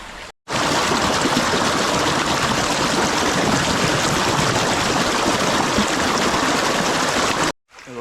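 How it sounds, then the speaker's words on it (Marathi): A forest stream running high after rain rushes and gurgles steadily at close range, a dense, continuous wash of water filling the whole stretch with no voices. "पाण्याचा फ्लो वाढला आहे"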